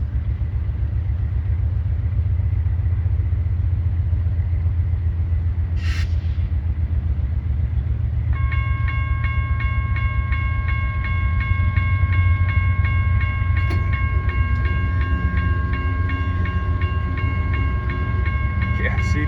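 A long CSX loaded ethanol freight train, nearly 6,000 feet, rolls past steadily with a continuous heavy rumble and wheel noise. A sustained multi-tone horn sounds partway through, with a few sharp clanks over the passing cars.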